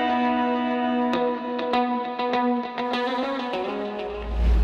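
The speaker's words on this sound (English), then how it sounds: "Let's add a little bit of distortion to that." An electric guitar part in a music mix with a distortion effect applied, sustained harmonic-rich chords with sharp picked attacks ringing out fairly loud and alone.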